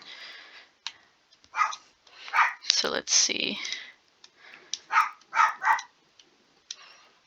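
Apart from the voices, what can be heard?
dog barking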